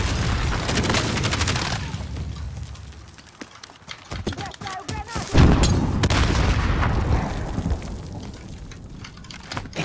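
Explosives going off in the video game Call of Duty: Warzone, with dense rumbling booms and crackling blasts, a heavy thud near the middle, and game noise filling the whole stretch.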